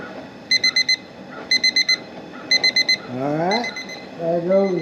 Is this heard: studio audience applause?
no